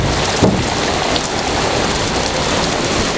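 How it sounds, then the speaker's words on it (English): Heavy thunderstorm rain pours loudly and steadily on a sailboat in the Gulf Stream, a dense close hiss of drops on the surface with a brief sharper crack near the start. "The thunderstorms have turned on and it's been pouring on and off today."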